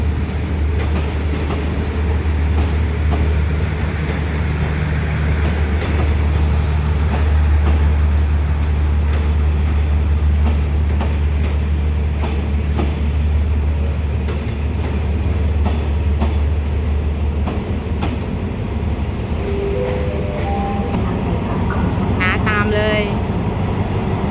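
Trains arriving and departing at Bangkok railway station, with a steady low rumble of rolling stock and horn-like tones near the end under a continuous busy background.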